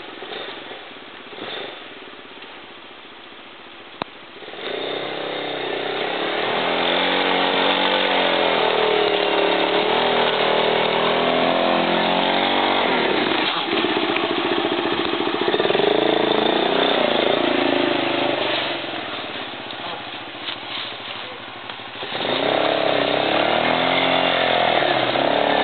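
A quad ATV engine labours uphill in a steady, loud drone with shifting pitch, dipping briefly before revving again near the end.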